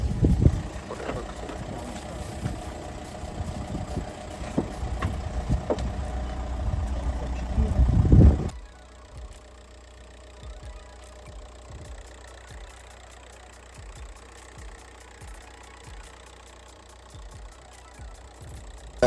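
Volkswagen Touran engine idling with a steady low rumble and knocking throb, loud and close for about eight seconds before dropping to a much quieter, muffled hum.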